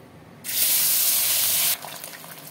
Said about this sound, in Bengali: লবণ দিলে আমার মাছটা ভালো ভাজা হবে, মাছটা ধরবেও না কড়াতে, প্লাস হবে না, ছিটকাবে না তেল।